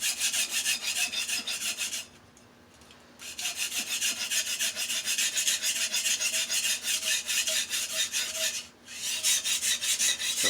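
A knife edge rasping steadily on an Ultrasharp 3k diamond plate in a manual guided sharpener, a fast, even back-and-forth scrape close up and loud, broken by two brief pauses.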